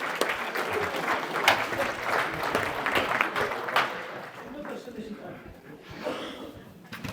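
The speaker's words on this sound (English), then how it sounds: "Give him a clap" Audience applause at a leadership talk, a dense steady patter of many hands that swells early and then thins and tapers toward the end, with faint murmuring mixed in.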